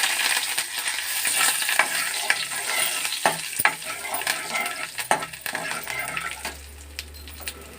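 Curry leaves hitting hot oil with tempering spices already in the pan, a dense continuous sizzle with sharp crackles and a few metallic clinks of a spoon against the pan.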